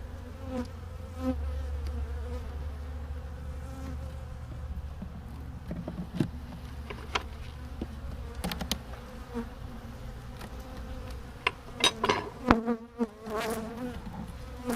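Honey bees hum in a low, steady drone during a backyard hive inspection, fairly quiet, with scattered knocks and frame handling sounds and no talking.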